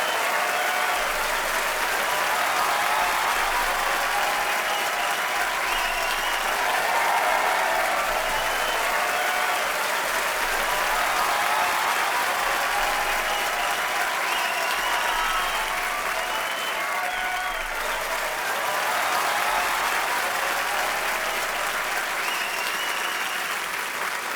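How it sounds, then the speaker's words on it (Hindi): Loud, sustained applause from a studio audience at a Hindi comedy talk show taping, a dense wash of clapping that rolls on steadily for the whole stretch with no break. "आप सबकी जोरदार तालियों के बीच इनवाइट करना चाहूंगा मिस्टर अली फजल और मोमल शेख।"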